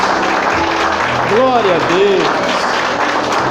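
A church congregation applauds with steady, dense clapping filling the whole moment, while a preacher's voice calls out praise over it, his words rising above the continuous applause.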